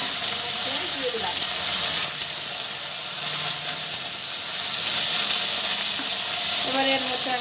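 Washed ridge gourd slices go into hot oil, where the frying sets off a steady, loud sizzling hiss that carries on throughout with faint clatter from the pan.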